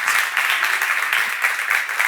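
An audience at a church seminar applauds steadily, a close, dense wash of clapping that holds evenly throughout.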